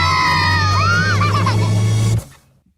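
Loud audience screaming and shouting at a D23 entertainment showcase balloon game, a sustained crowd roar with rising voices that cuts off abruptly near the end.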